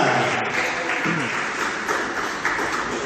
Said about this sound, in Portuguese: aplaudindo a Jesus Cristo com as palmas